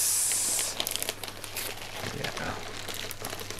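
Newspaper packing paper being crumpled and torn off a shipped orchid, loud close crinkling and rustling bursts throughout, with a brief spoken word.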